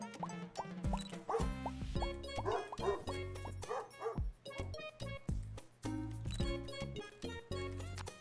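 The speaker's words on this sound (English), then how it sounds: "That is a dog." Dogs in the Pupperazzi video game bark and yip repeatedly at close range in quick, busy bursts.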